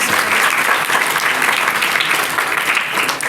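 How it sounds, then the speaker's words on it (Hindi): An audience claps loudly and steadily in a hall, a dense, continuous burst of applause lasting the whole few seconds. "माता जी के लिए जोर से ताली बजाने चाहिए।"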